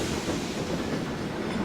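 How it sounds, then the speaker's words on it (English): Steady, loud rumble of a train running on track in Train Simulator 2016, on the Maerdy route, a continuous broadband roar with faint rail clatter and no talking. "Let the train speed up a bit."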